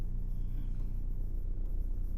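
Marker or chalk scratching on a board during a Class 10 maths lesson on arithmetic progression, a faint continuous scraping for about two seconds with no voice over it.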